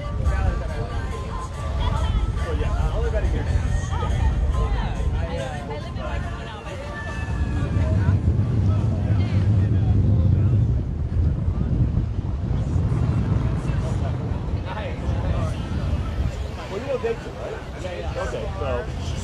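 A catamaran sails off Waikiki Beach, and loud, steady wind buffets the microphone while water rushes around the hull and indistinct voices murmur in the background.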